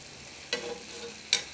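Pancit canton with sotanghon noodles being stir-fried in a pan: a low steady sizzle with two sharp spatula scrapes, close and clear, no talking.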